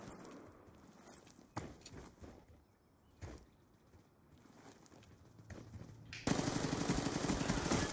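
Automatic gunfire in the video game Black Ops 2 rattles in short, fairly quiet bursts, followed by a louder, steady wash of noise near the end, with no talking.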